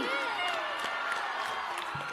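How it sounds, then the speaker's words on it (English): A dense crowd of school students cheers and shouts at an event with a visiting politician, a continuous loud roar of voices with scattered whoops and claps throughout. "Wow, students, see the enthusiasm of this crowd."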